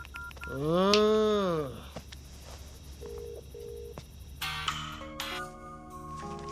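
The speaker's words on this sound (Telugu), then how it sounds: "నేను దానికి ఫోన్ చేసేస్తాను" A phone number is keyed in, a run of short electronic dial beeps following a rising and falling tonal chime, then a ringing tone begins, in a Telugu film scene.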